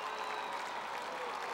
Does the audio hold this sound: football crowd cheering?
yes